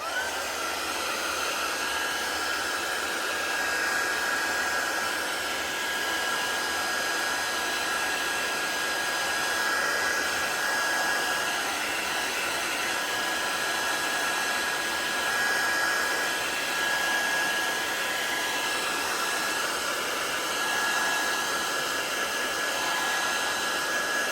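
A hair dryer blows steadily and close by, drying paint on paper, a constant whooshing hum with a faint high whine that holds evenly throughout with no talking.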